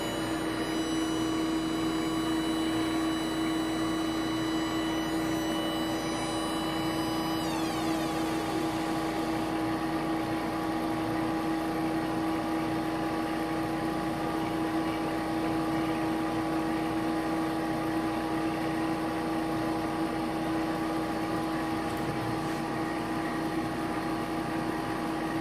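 A Varian 938-41 leak detector puts out its audio signal during calibration: a steady electronic tone over a constant machine hum, with a gliding pitch change partway through.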